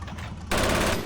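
An MG42 machine gun on a German APC in the Forgotten Hope 2 war game opens up suddenly in a loud, rapid, continuous burst after a brief quieter lead-in.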